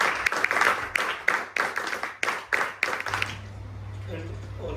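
NCC cadets at a felicitation ceremony clap in unison, a run of sharp, evenly spaced group claps for about three seconds before it stops and a low hum remains.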